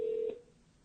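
A single short telephone dialing tone, loud and clear as a call is placed, fading quickly into quiet line noise.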